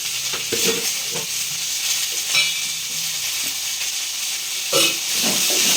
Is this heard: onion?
yes